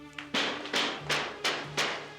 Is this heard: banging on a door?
yes